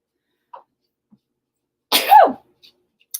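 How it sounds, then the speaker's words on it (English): A single short sneeze bursts out close and loud in an otherwise quiet room, preceded and followed by a few faint small noises. "I've got to sneeze."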